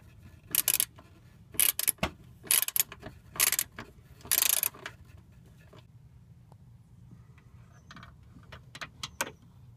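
Bolts being removed from the side motor mount of a 2003 Honda Pilot, several close, loud bursts of ratchet clicking in quick succession, then faint scattered metallic ticks.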